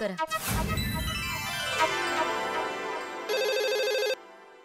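A phone ringtone chimes out in a bright melodic burst, then a sharper electronic ring pulses briefly before stopping, with no talking.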